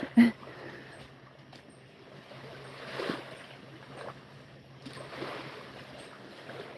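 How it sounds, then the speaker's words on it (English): Lake waves lap near the shore on a summer day, soft irregular washes and splashes rising and falling, fairly faint, with no speech. "it's hard to hear over the waves."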